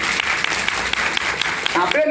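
Dense audience clapping fills the room at a live devotional poetry gathering, steady and close throughout, with a voice breaking in near the end.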